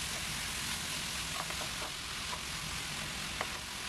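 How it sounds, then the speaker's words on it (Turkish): Zucchini simmering in its own juices in an uncovered pot, with no added water or tomato sauce, giving a steady soft sizzle and bubbling with faint occasional spoon stirs, no voices. "Ara ara karıştırarak kabakların yumuşamasını sağlayacağım. Tencerenin kapağını kapatmadan yapıyoruz bu işlemi."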